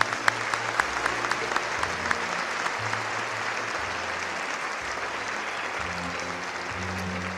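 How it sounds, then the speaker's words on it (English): Audience applause at a high school senior night honoring graduating students, a steady wash of many clapping hands filling the room with a low murmur underneath, sustained evenly throughout. "Let's give them a round of applause."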